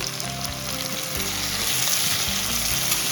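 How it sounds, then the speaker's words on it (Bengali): Cumin paste and ginger paste sizzle as they fry in hot oil for a Dalia khichuri, a steady dense crackle that stays loud and close throughout with no talking. "দিয়ে একটু নাড়াচাড়া করে দিচ্ছি"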